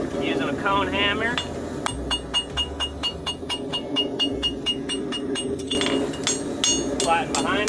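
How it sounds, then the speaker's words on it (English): A cone hammer strikes a steel horseshoe on an anvil while a farrier shapes a shoe for an eventing horse, giving a rapid run of sharp, ringing metallic blows close by, with speech before and after the strikes. "Using a cone hammer."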